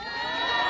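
A large outdoor crowd at a candlelight protest rally in Korea on a snowy night gives a brief, steady burst of cheering and applause, heard alone.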